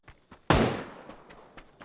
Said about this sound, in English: I heard them bullets